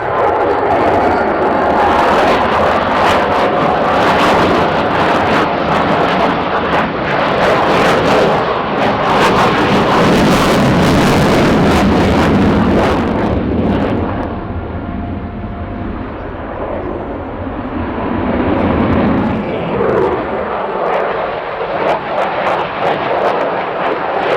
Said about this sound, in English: Slav is preparing for loaded rolls. Fast, aggressive barrel rolls are...